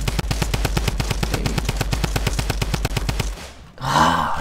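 A drum gun in Fortnite fires a rapid, steady burst of about thirty loud shots in quick rhythm, then stops, followed by a short whooshing effect.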